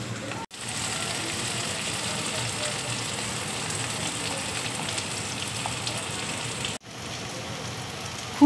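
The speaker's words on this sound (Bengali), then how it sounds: "ফুলকপিটা দেখো ভাজা হয়ে গেছে।" Cauliflower fries in hot oil, giving a steady, dense sizzle that continues without a break. The sizzle is close and fairly loud, with no voices over it.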